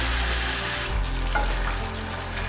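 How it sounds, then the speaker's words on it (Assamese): Spice masala for a paneer curry fries in a pan with added water, giving a loud, dense, steady sizzle up close and a faint scrape of stirring partway through, with no talking. "পানীখিনি দি আমি এইখিনি প্ৰায় 2 মিনিট 3 মিনিট সময় মছলাখিনি এনেধৰণে ভাজিম।"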